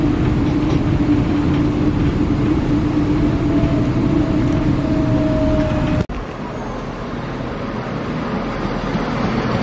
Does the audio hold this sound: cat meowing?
no